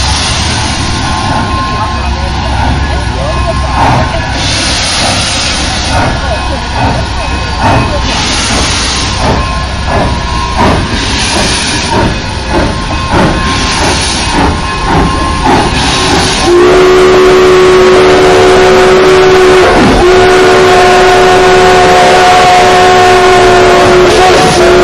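Steam locomotive whistles at the Durango and Silverton railfest, loud and close, with repeated blasts in the first half giving way to one long sustained whistle, over engine and crowd noise.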